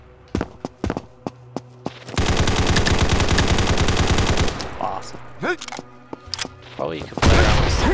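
Pistol fire in the PC shooter Combat Master: a few separate sharp shots, then a long unbroken burst of rapid loud gunfire, followed by scattered shots and game effects.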